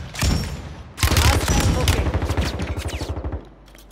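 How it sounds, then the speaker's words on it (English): Close-range gunfire in the Call of Duty MW3 video game: a short opening shot, then a loud rapid automatic burst of rattling shots lasting over two seconds before cutting off. "I'm getting shot at in close range right here by this rock in front of me"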